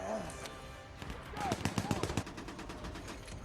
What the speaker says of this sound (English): the machine guns are just suppressing the Germans